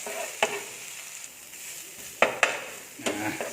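Lemongrass and kaffir lime leaves stir-fry in a pan for a Thai beef dish: a quiet sizzle punctuated by a handful of sharp utensil scrapes and knocks against the pan, close by.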